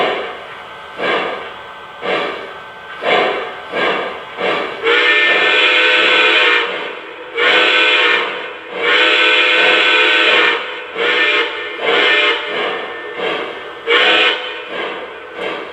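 A Lionel Legacy 4-12-2 three-cylinder model steam locomotive chuffs in a steady, irregular beat from its two main cylinders and third cylinder, with sustained hissing steam bursts in between, loud and close with no voices.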